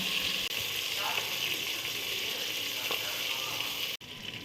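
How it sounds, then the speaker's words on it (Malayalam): Chicken pieces sizzling in a pressure-cooker pan for mandi, a bright, steady frying hiss close by, with a couple of soft shifts as the pieces are turned and brief dropouts. "ചിക്കൻ ഒന്ന് തിരിച്ചും മറിച്ച് ഒക്കെ ഒന്ന് ഇടാം"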